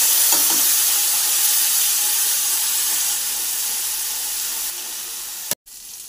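Ginger garlic paste frying in a hot pan, a steady close sizzling hiss that fades slightly before cutting off abruptly near the end.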